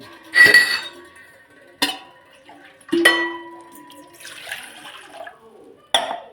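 A metal saucepan clinking and clanking in a home kitchen while tea is being made, several sharp separate knocks and rings with quiet pauses between them, close and clear.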